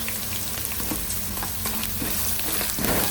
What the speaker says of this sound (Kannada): ಹಿಂಗು ಹಾಕ್ತಾಯಿದ್ದೀನಿ ಅಂತ